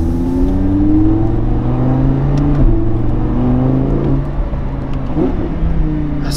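An Audi R8 V10 with a Stage 1 tune roars and climbs through the revs, dipping and rising again as it shifts, loud and close with a continuous throaty whine.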